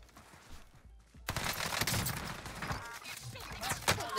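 Gunfire in a Warzone battle-royale match crackles as a loud, rapid string of shots and impacts that starts abruptly and keeps going, with faint game noise before it and little talk.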